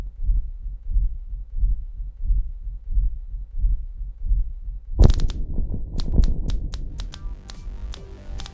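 Steady low thumping heartbeat from Minecraft, about two beats a second, looping alone for five seconds before bright clicks and game noises crowd in over it.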